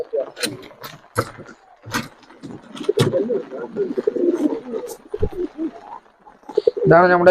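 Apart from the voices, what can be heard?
pigeon cooing in a loft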